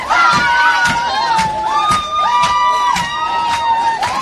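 Spectators at a reserves-grade grand final, Brighton against Barossa, cheer and shout loudly and continuously, with shrill whistling rising and falling above the roar.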